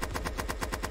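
A minigun firing in a video game, a rapid, evenly spaced run of about eight loud, close shots in under a second.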